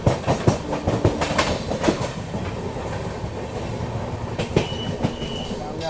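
Northeast Express passenger train running on rails from Delhi toward Guwahati, steady clickety-clack of wheels over rail joints with a rumbling carriage, heard from inside, moderately loud with faint squeals.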